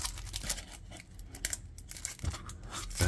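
A plastic bag from a 1/100 Genesis mecha model kit is torn and crinkled open, with sharp ripping bursts and rustling that run close and fairly quiet throughout.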